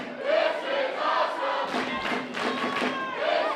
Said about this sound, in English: Crowd chanting, "This is awesome," and I agree with them